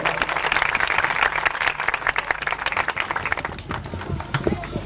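A church congregation claps for a guest speaker, a fairly loud burst of many hands with talk over it, thinning toward the end.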